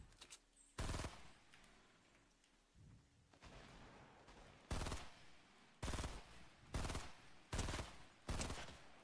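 Video game gunfire in rapid bursts, several loud broadband volleys of automatic shots separated by short pauses, with faint background sound between them and no talking.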